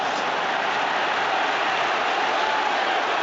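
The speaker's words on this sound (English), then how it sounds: "That's the biggest cheer of the day. The Leicester fans are going absolutely crazy." Leicester fans roar at a cup final after a video assistant referee decision, a dense, loud, sustained crowd cheer with no break from start to finish.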